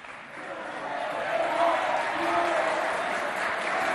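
A school audience applauds a dance group from Complexe scolaire Abdoulaye Moussa at an inter-college event, a steady wash of many hands clapping that swells slightly and holds at fairly loud level for several seconds.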